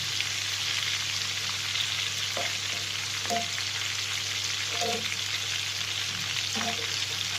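Chicken liver fries in a pan with a steady, close sizzle that runs the whole time, broken by a few light stirring scrapes and taps.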